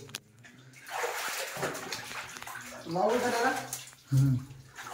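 Water gushes and splashes steadily at a temple site, a moderately close rushing flow that persists under people talking nearby.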